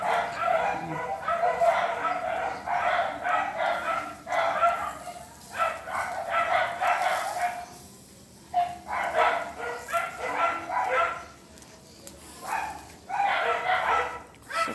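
A dog barks repeatedly at a distance, in bursts of several barks separated by short pauses, over faint background noise.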